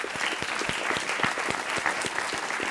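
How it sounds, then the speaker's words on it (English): A conference audience gives a round of applause for the speakers at a session wrap-up, steady, moderately loud clapping with a few distinct close claps. "a round of applause for all of our speakers."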